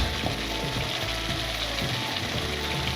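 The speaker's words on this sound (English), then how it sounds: "Now I'm going to give it a good mix." Chicken curry frying in a pan while being stirred, a steady loud sizzle with rhythmic scraping strokes of a utensil underneath, continuous throughout.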